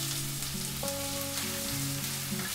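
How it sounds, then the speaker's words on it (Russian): Steady crackling sizzle of chopped onion frying in hot sunflower oil in a frying pan, continuous and close, with a low hum running underneath. "Нарезанный лук отправляю в сковородку."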